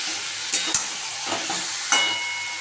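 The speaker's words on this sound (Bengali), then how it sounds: "একটু ঢাকা দিয়ে দিয়ে কষিয়ে নিচ্ছি, যাতে আলুটাও তাড়াতাড়ি করে সেদ্ধ হয়ে যায়।" Potatoes and meat sauté in a covered pan with a steady bright sizzle and hiss, broken by a few sharp clicks and knocks of stirring or the lid, close by.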